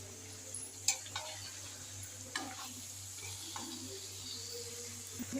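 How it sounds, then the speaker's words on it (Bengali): A spatula scrapes and taps through boiled banana flower (mocha) in spice paste and oil, giving soft irregular clicks and scrapes over a faint, quiet sizzle. "মোচাটা এখন আমি ভালো করে নেড়ে নেব"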